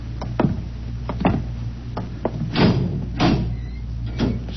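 A heavy door opens in an old radio drama set inside a dark silo, with a few separate knocks and creaks followed by two longer, louder scraping swells, all close and with no voices.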